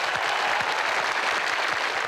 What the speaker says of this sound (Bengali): তার জন্য করতালি।